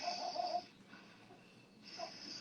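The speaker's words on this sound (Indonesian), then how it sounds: "Jadi nafasnya kayak orang ngorok." Ujjayi breathing during labour practice, a slow throaty breath with a snoring-like rasp, heard as two drawn-out hissing breaths separated by a quieter pause, close and moderately loud.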